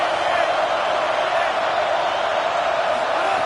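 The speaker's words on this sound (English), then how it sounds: "this crowd trying to help keep them there." Steady roar of a stadium crowd in a College Football 27 video game, a dense continuous wash of cheering with no breaks, loud and constant throughout.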